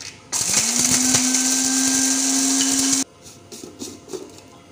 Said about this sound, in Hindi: तो अब इसको हम डाल लेंगे मसाले वाली डब्बी में और इसको अच्छे तरीके से करेंगे चॉप